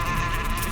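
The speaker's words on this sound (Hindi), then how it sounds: "मधुमक्खी के छत्ते को छेड़ना" Dense, steady buzzing of honeybees swarming close around their hive, a continuous loud drone with no pauses.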